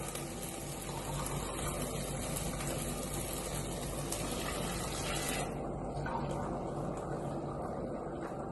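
Hot water pours steadily into a pot of rice, a continuous gushing rush that shifts brighter partway through, with no one talking over it.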